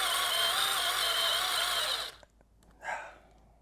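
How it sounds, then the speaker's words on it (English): A cordless drill at its top setting bores into a 2x4, a loud high whine that runs steady for about two seconds and then stops, followed by one short whirring spin-up. "let's crank this bad boy all the way up to 7. See how it does with the 2x4"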